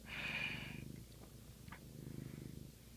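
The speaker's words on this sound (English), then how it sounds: "There's a lot of cat distracting me." A cat purrs close by in a bedroom, a steady soft rumbling pulse that runs through the whole stretch with no one speaking.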